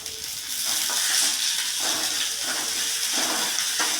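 Masala rice ingredients frying in a pan: a continuous hissing sizzle with soft rhythmic scraping as the pan is stirred, close and moderately loud, no talk.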